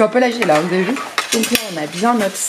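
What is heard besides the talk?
objects clattering on a glass plate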